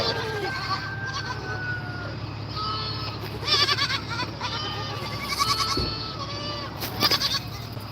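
A baby goat bleats repeatedly in short wavering cries, close and loud, with other goat calls overlapping and an occasional thud.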